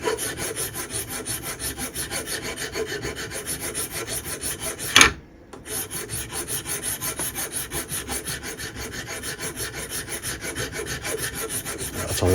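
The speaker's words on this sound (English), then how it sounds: "the headstock side is what I'll be rasping down" A hand rasp files down the headstock side of a guitar nut, giving a steady run of close, even scraping strokes with one short sharp knock and a brief pause partway through.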